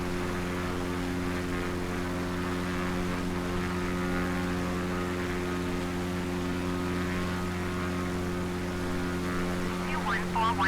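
A simulated heavy airliner in Microsoft Flight Simulator rolls for takeoff, its engines giving a steady, droning hum with a constant tonal whine that holds evenly throughout, moderately quiet, with no talking over it.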